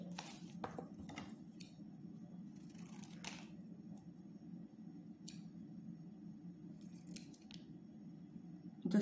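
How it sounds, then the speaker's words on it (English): Scissors cutting a triangle out of folded red paper for a craft activity, heard as a series of soft, close snips over a steady low hum. "So I am going to cut the triangle from here."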